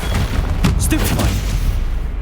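A Stupefy spell cast in the video game Hogwarts Legacy: a sharp magical blast with a booming burst and a quick follow-up crackle over a constant loud game-effects bed, with a voice briefly calling out.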